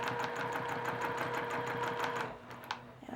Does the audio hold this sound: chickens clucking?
no